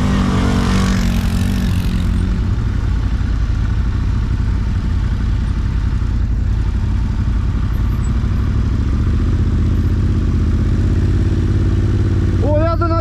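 A Can-Am 1000 and a Yamaha Raptor race with a loud, continuous engine roar close by, and voices can be heard over the droning motors.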